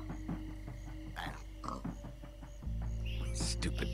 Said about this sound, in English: Hey, all pigs but Reuben, shut up!